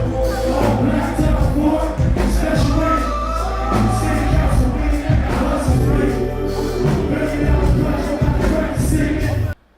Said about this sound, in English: Cut off the track, let the crowd sing.